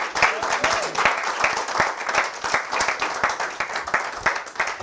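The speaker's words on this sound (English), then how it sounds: "y'all give her a big round of applause." Enthusiastic audience applause fills a room as a pregnant woman is welcomed to the front, dense steady clapping sustained throughout at close range with a bit of crowd noise mixed in.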